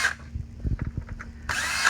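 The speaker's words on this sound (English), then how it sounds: "Tools that you're going to need for this project: cordless drill is great" A cordless drill backs screws out of a CycloMop stainless steel basket: a quick series of short, close whirring bursts that end abruptly.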